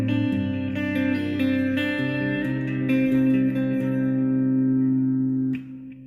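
Acoustic guitar playing a hammer-on and pull-off passage, ringing plucked notes over sustained bass strings at close range, slowing and fading near the end.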